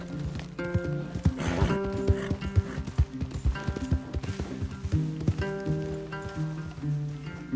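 Horse hooves clip-clopping in an uneven walking rhythm in the Red Dead Redemption 2 game, close and clear, with occasional snorts and a brief whinny among the steps.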